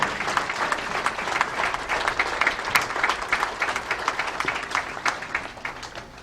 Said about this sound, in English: let's give one more round of applause to Diana and Erin McCarthy for a great event